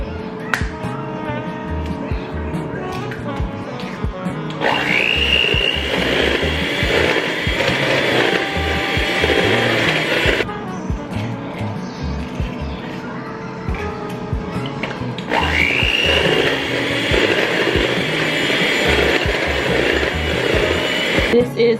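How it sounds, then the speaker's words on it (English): An electric mixer beats butterscotch unleavened bread batter in two long runs of loud buzzing whir, each starting abruptly and stopping after several seconds, with quieter clatter and faint background sounds between them. "We still need our mixer."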